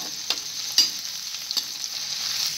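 Grated ginger and spices stirred in a hot pan, with a steady bright sizzle and a few soft spatula scrapes spaced through the short stretch.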